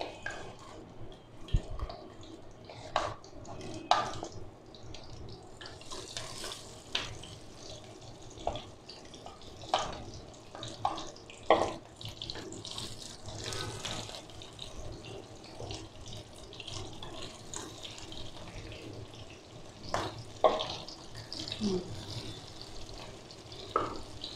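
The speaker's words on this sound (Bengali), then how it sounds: "আমি চিংড়ি মাছগুলো দিয়ে দিচ্ছি, তেল গরম হয়ে গিয়েছে" Prawns drop into hot oil for Barishal-style malai chingri and fry with a sustained low sizzle. Sharp spits and utensil knocks punctuate it at irregular intervals, and no one speaks over it.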